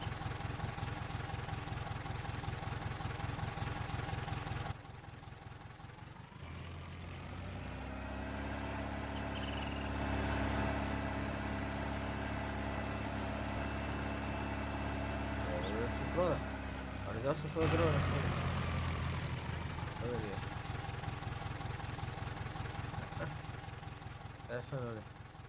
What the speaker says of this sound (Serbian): Evo pomerimo traktor.